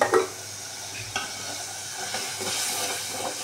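Bottle gourd curry cooking in a pan, with a steady close sizzle and occasional scraping stirs over the frying.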